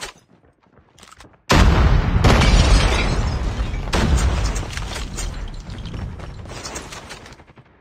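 A video-game grenade bursts with a sudden loud boom that rolls into a long rumbling decay, preceded by a quiet stretch and followed by fainter crackling debris.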